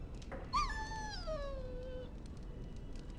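A dog whimpers in a Dragon Age video game, a single high, drawn-out whine that slides downward and fades, with faint ambient hum beneath.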